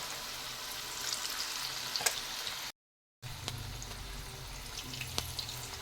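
Thin cabbage fritters crackle and bubble steadily in hot oil, close and clear; the sound drops out briefly, then the frying resumes.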